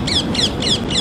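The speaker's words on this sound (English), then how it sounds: "Can you hear those parrots?" Parrots calling repeatedly outdoors, four bright squawking bursts in a steady rhythm, fairly close, over a low background rumble.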